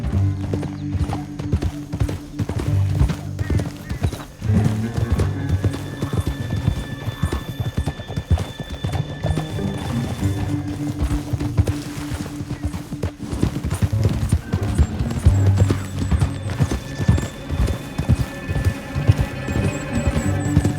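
Steady clip-clop of horse hooves galloping continuously with a horse whinnying in Red Dead Redemption 2, set against a constant low rumble and music throughout.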